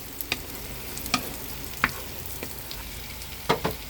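Shrimp and celery frying in a pan, a steady soft sizzle close by, broken by a handful of sharp utensil clicks and scrapes as the pan is stirred, with no talk.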